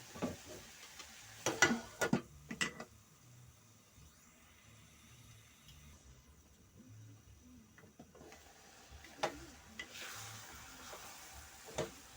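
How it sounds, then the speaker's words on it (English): Boiled lentil mixture being stirred in a pot during traditional kamande cooking, a few scraping strokes clustered early and again later, quiet and close, with a soft sizzle between. "We stir our mixture."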